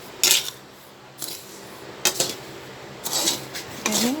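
Coffee beans roasting in a pan are stirred in several short, scraping bursts of rattling and clinking, separated by quieter pauses.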